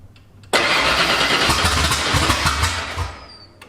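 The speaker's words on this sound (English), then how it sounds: "It's actually hitting the engine with fuel, which is not something it did last time." A 1989 Ford F-150 pickup engine catches and fires loudly after a quiet moment, running roughly for a few seconds before beginning to settle.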